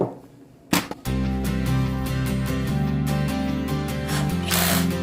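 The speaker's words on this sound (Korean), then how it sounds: "세면장에 거울이 없어서 드릴로 구멍을 뚫고 파이브로 박아서" A power drill boring holes in a washroom wall to mount a mirror: a short burst and a pause, then a loud sustained whine held for several seconds, close by, with no talking.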